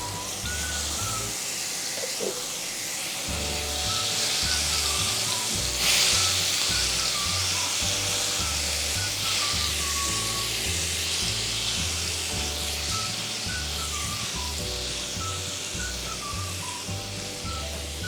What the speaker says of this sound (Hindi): अब इसके अंदर मैं 1 चम्मच लहसुन का डालूँगी। इसे हल्का सा फ्राई करेंगे।